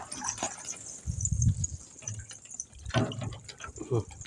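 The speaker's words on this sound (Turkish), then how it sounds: "Hortum içine dolsun ki devir yapsın." Water from a garden hose splashes and gurgles in short bursts while filling a pigeon cote's water container on a farm, with someone talking nearby.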